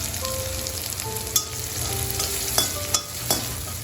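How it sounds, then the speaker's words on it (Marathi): Green chillies frying in tempering oil with salt for chivda, a steady sizzle with several sharp clinks of a spoon against the pan, close and fairly loud, no speech. "तर आता या मिरच्या व्यवस्थित आपल्या फ्राय करून झाल्या"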